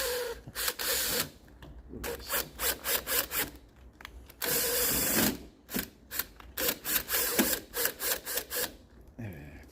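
Bursts of power-drill whirring and grinding against a wooden door, drilling for a lock, starting and stopping in short uneven pulses with a couple of longer sustained runs.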